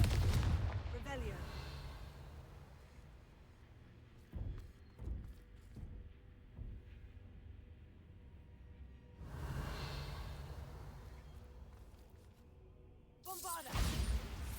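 Bombarda and Confringo spell blasts in a Hogwarts video game, a few muffled booming explosions with whooshing bursts and thuds spread across a low rumbling background.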